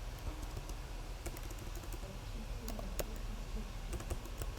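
Code is typed on a computer keyboard in a quiet, close stream of light key clicks, steady and continuous, with a few sharper taps.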